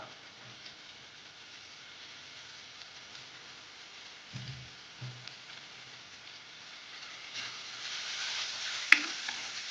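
Cassava tempering with chilli flakes sizzles quietly in a wok, a soft steady fry with a few low scrapes and knocks of stirring that grow slightly louder toward the end.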